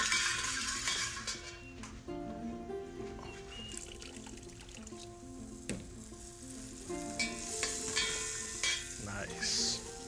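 Turmeric and chili roasting lightly in a pan in a Kashmiri-style kitchen, a steady sizzle with stirring and scraping over soft background music, no talk.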